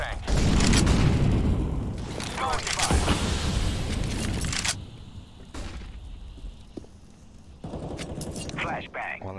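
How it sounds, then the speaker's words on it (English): A flashbang grenade bursts in a tactical shooter game with a loud, broad blast early on, followed by further bangs and a fading ring, with players talking over it. "Flashbang out."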